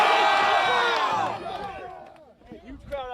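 A large crowd cheers loudly at a football game, a dense wash of many voices that fades after the first second or so into scattered shouts and nearby talk.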